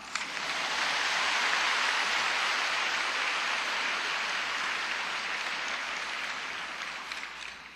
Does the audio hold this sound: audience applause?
yes